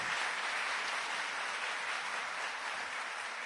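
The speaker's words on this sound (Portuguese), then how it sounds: "Os nossos aplausos ao professor Krieger." An audience at a university researchers' meeting applauds a professor, a steady, even wash of clapping that holds at moderate volume throughout with no voices.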